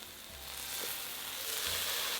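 Onion, peas and carrots stir-fry with salt, white pepper and liquid seasoning for pineapple fried rice, a steady close sizzle with occasional low scraping thuds from a spatula, no voices.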